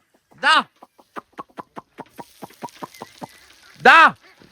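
Free-roaming domestic chickens at a village home cluck in a quick series of short, close notes, with two louder drawn-out calls at the start and end.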